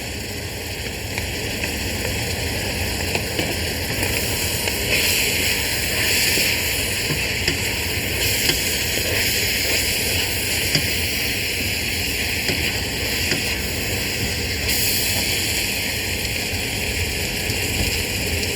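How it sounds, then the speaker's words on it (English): Steady, hissing crackle of Bolognese sauce ingredients sizzling in a pan, continuous and even throughout with no voices. "Hear it nicely sizzling."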